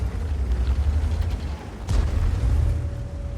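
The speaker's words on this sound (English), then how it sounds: "The T-34 is fending him off with his 120mm gun." A single heavy boom from a T-34 tank's 120mm gun in a tank battle game, one loud shot midway over a low rumbling engine and battle ambience.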